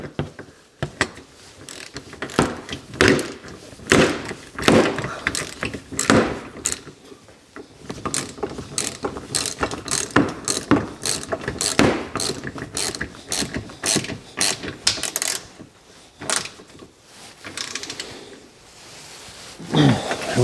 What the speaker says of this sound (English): We'll tighten this baby up. So this is a 10mm nut on the inside